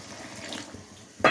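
Water splashes into a cooking pot of spicy fish curry in a home kitchen, a short, louder pour arriving at the very end after a quiet stretch of low kitchen background.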